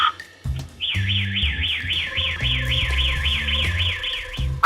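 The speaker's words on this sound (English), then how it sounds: "the world's most sci-fi burglar alarm" A burglar alarm wails in fast, even up-and-down warbling sweeps over a low pulsing electronic tone, loud and continuous, sounding futuristic and synthetic.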